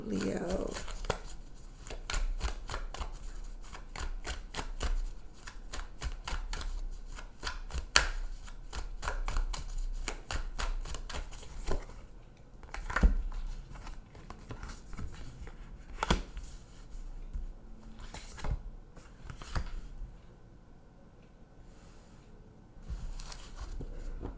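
Rapid, crisp riffling and flicking of tarot cards being shuffled goes on steadily for a long stretch, with brief pauses and a few louder slaps, fairly close.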